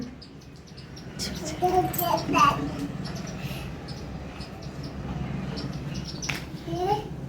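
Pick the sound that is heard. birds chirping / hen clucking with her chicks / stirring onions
birds chirping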